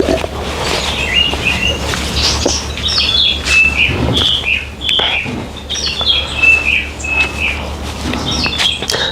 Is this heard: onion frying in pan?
no